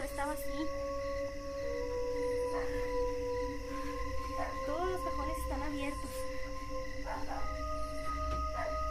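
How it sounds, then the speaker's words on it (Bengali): Outside at night, a dog howls in long, drawn-out, wavering tones, faint and somewhat distant, while someone nearby talks quietly over it. "আর বাইরে মনে হচ্ছে কুকুরও ডাকছে।"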